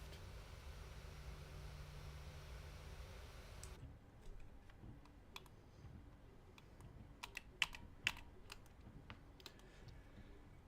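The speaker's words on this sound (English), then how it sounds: "you can hear my keyboard click super loud" A computer keyboard clicks faintly and irregularly as someone types during a flight-simulator session, scattered sharp taps standing out after a steady hiss cuts off.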